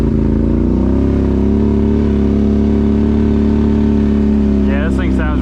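A 2017 Polaris XMR 570 ATV with an RJWC exhaust revs loud and close on a ride, its engine note rising and shifting steadily before a brief burst of higher sound at the end.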